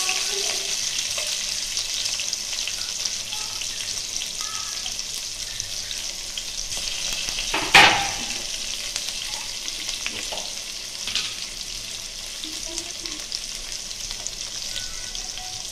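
Curry leaves and onions fry in hot oil for a curry, giving a steady broadband sizzle throughout with a sharp burst of crackle near the middle as something is added or stirred, no voices present.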